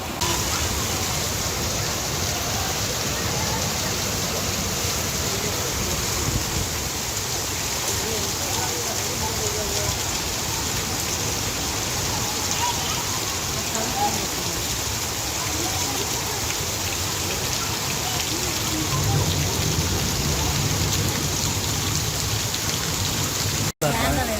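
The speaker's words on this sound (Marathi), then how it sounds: "हुबळी हांगा भरपूर पाऊस पडटा" Heavy rain pours down on Hubballi in a dense, unbroken roar that holds steady for the whole stretch, close and loud.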